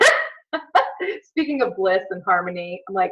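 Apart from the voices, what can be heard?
dogs barking in the house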